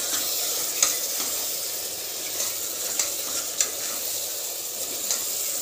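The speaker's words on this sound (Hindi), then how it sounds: "कुछ देर के लिए इसे भुनना है ताकि ये जो मसाले हैं ये रोंगी में बहुत ही अच्छे से एब्जॉर्ब हो जाएं।" Cowpeas (rongi) roast with spices and salt in a pan, giving a continuous close sizzle punctuated by light, irregular scrapes and taps of a stirring spoon, with no one talking.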